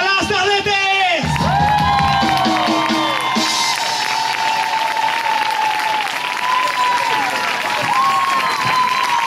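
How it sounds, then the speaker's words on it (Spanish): An outdoor street cabaret audience bursts into loud, sustained applause with cheers and whoops, a dense wash of clapping filling the whole stretch after a brief moment of a performer's voice. "¡Un aplauso para las Tardetes!"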